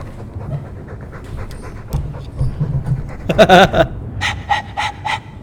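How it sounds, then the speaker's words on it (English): A dog pants rapidly in the fantasy role-playing game Dragon Age 2, loud quick rhythmic huffs and gasping breaths close up, pausing briefly then resuming in fast bursts, with little speech. "All that noisy dog breath"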